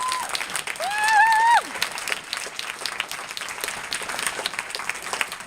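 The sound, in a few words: theatre festival audience applauding the organisers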